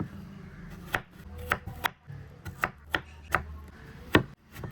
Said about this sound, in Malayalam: ഈ കറിയൊക്കെ പോകുന്നതിന് മുമ്പ് അരിഞ്ഞെടുക്കണം തൊലി കളയുന്നില്ല അധികം ചെറുതാക്കണ്ട